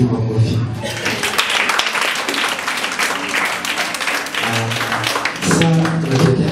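Hands clapping steadily at a Sunday church service, a dense, continuous patter of many people clapping together, with voices singing or talking over it.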